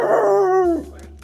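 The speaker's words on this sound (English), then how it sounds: "That dog was a bit grumpy" A grumpy dog outdoors gives a single drawn-out, loud bark that bends into a howl-like whine and then trails off, close to the microphone with no talking.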